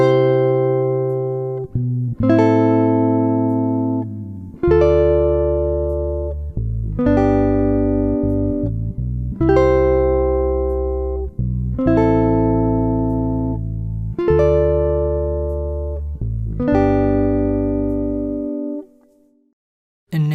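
Jazz guitar strums basic triads through a 1-6-2-5 progression, eight sustained chords each held for two beats in a steady, even rhythm, loud and clear with no talking, ringing out and fading at the end.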